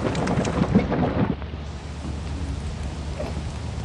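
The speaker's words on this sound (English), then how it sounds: "It's raining." Rain and rumbling thunder in the video game Lethal Company form a dense, steady wash of noise, with a louder, rougher rumble in the first second before settling into a continuous rainy hiss.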